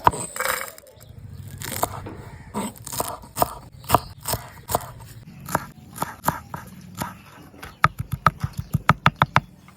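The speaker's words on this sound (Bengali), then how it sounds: "এবার চলো কাঁচা লঙ্কাগুলো কেটে নিই" Green chillies being chopped on a board for fuchka filling, a run of sharp crunchy knife strikes that start uneven and become a fast, steady rhythm near the end, close and fairly loud.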